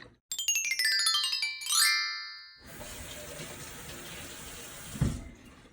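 A kitchen sink tap runs in a steady, close hiss of flowing water for about three seconds. Before it, a bright descending electronic chime rings out.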